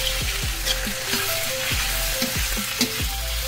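Marinated chicken fries with aromatics and peppercorns in a pan, making a dense, loud sizzle with repeated scraping clatters of a utensil against the pan in a loose rhythm.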